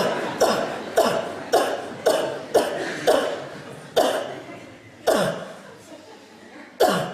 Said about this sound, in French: Vous toussez fort, madame.